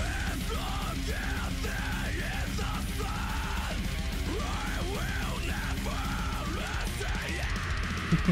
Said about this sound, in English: He's got definitely a very good scream.